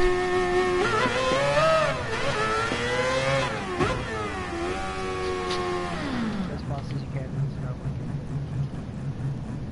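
A loud car engine revs hard from inside the cabin, pitch climbing and dipping in sweeping surges before dropping to a rumbling idle, with voices talking over it.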